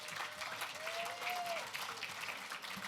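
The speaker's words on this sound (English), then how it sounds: "Big round of applause." An audience applauds at an awards ball with steady, dense clapping, held at even volume for the whole moment, with a faint whistle-like tone passing over it.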